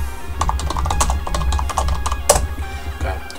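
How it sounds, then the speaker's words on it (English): Typing a message on a computer keyboard: irregular runs of sharp, close key clicks with brief pauses, over a low steady hum. "I'm just typing a message."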